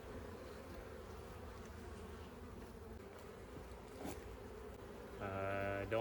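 Honeybees buzz around an open hive during a fall inspection, a steady low drone throughout, with a brief louder tone near the end.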